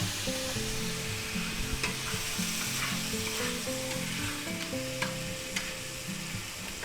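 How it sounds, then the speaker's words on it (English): Garlic and Vienna sausage sizzle steadily in a frying pan over lowered heat, a close, continuous hiss crackling with small pops, while a melodic tune plays quietly underneath. "there's nothing like the smell of garlic cooking in a pan"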